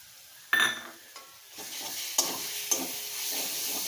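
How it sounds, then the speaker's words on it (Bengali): Pointed gourd being stir-fried with garlic, nigella seeds and crushed green chili: a soft, steady sizzle broken by several sharp scraping stirs of a spatula in the pan, close by and without talk. "এটা দিয়ে এখন নাড়াচাড়া করে ভালো করে ভেজে নেব।"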